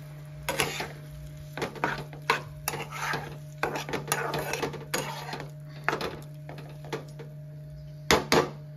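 A utensil scrapes and knocks against a pan while fish with chili powder and ginger is stirred, giving irregular clinks and scrapes over a quiet steady hum.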